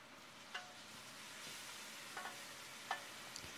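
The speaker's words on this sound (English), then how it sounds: "fry the meat on high flame till it gets seared on all sides" Wild boar meat pieces searing over a high flame in a pot with ginger and garlic, a steady close sizzle with a few sharp stir clatters spaced through it.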